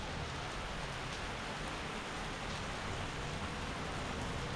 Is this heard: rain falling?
yes